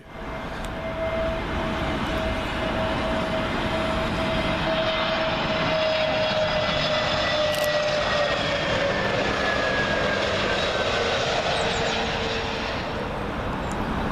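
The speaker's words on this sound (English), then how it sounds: "British Airways A321 coming in from Istanbul" A British Airways Airbus A321 arriving from Istanbul on approach to Heathrow's runway 27L, its engines a loud, steady roar overhead with a descending whine running through it and no talk.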